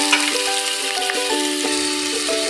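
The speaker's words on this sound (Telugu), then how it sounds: "టమాటా కొంచెం ఆయిల్లో ఫ్రై చేద్దాము, మెత్తగా మగ్గిపోవాలి." Tomatoes frying in oil after ginger-garlic paste, giving a steady, close sizzling hiss under sustained tonal background music.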